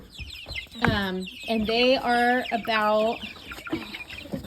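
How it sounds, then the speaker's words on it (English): Cornish cross meat chicks, two to three weeks old, cluck and peep close by in a brooder, a run of several tonal calls with a person talking over them. "these are Cornish cross meat birds"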